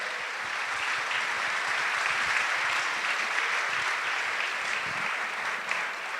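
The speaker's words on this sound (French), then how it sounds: "je vous propose qu'on s'applaudisse tous collectivement" An audience at an opening event applauds together, a dense, steady wash of clapping that holds at even loudness for several seconds with no talk over it.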